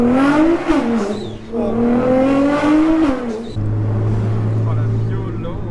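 A Stage 3 Nissan GT-R with a forged engine and over 700 horsepower revs hard with rising and falling engine pitch. The engine note is loud and close, with a steady drone afterward and excited voices over it.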